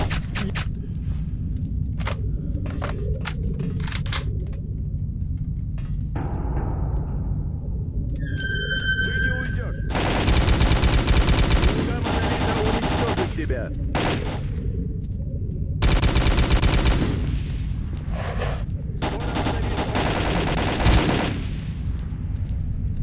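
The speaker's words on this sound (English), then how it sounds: "Who are they shooting at?" Gunfire in the video game S.T.A.L.K.E.R. Call of Pripyat: scattered sharp single shots early on, then several loud sustained automatic bursts with gaps between them.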